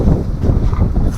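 Gusty wind at a campsite in high cold winds and rain, buffeting the microphone with loud, low rumbling blasts that rise and fall, alone with no voices.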